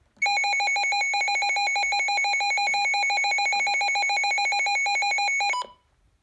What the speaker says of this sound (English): Next is the alert test.